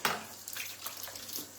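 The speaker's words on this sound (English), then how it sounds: "Right, let me just wash the pips away." Tap water running over a Scotch bonnet pepper to rinse away its pips in a kitchen, a faint steady splashing with small spatters.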